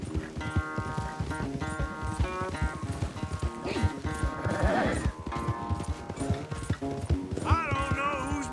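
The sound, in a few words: horse galloping in Red Dead Redemption 2 video game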